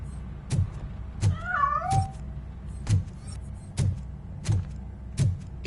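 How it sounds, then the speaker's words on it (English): Cat meowing in the video game RoboCop: Rogue City, a single drawn-out meow rising and falling at mid distance, surrounded by a steady run of soft, evenly spaced ticks and thumps. "That cat must be hiding inside."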